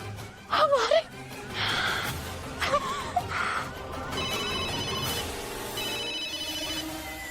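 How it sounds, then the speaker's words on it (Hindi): An indoor telephone rings in a domestic TV drama scene, a repeated electronic trill under brief gasps and muffled voices, steady and moderately loud. "गजाला देखो ना किसका फोन है।"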